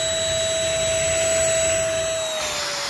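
Small electric vacuum cleaner running steadily and loud at close range, its motor giving a constant high whine with a slight drop in pitch near the end.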